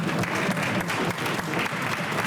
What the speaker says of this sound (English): I think I should clap for you.